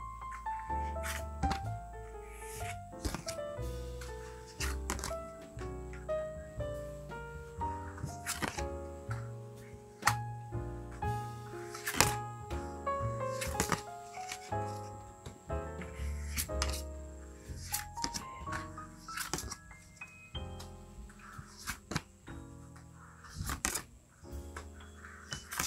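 Tarot cards are drawn from a deck three at a time, giving close, quiet, intermittent snaps, flicks and sliding rustles of card stock.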